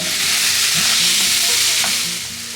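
Minced vegetables being stirred and fried in a pan with a pinch of garam masala, kasuri methi and soy sauce, giving a loud, close, steady sizzle with scraping stirs throughout and no voices.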